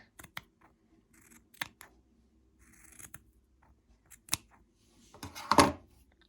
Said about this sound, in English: Simply cut them up and trim them from both sides